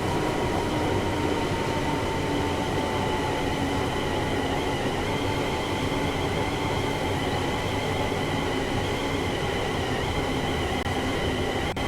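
A train in the Train Sim World 5 video game on the West Coast Main Line South route runs with a steady rumbling roar, faint wheel squeal and rail clatter, continuous and close throughout, with no talk.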